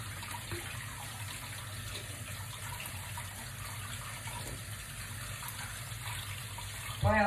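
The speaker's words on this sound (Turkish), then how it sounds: "Sıcak su tutuyorum." Hot water runs from a tap over a spatula during cake decorating, a soft, steady, even wash of sound with no talking, ending in a short louder clatter.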